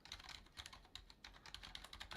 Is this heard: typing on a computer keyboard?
yes